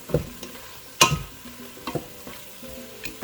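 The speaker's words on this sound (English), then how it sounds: "All right, let's go ahead and stir it" Celery and other vegetables are stirred in a pot for white chicken chili: a spoon scrapes and knocks against the pot in several uneven strokes over a soft, steady sizzle, close up and with no talking.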